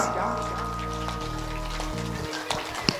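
An audience at a religious Krishna katha gathering claps softly and unevenly, a light patter like rain, over a sustained musical drone and murmuring voices, with a couple of sharper claps near the end.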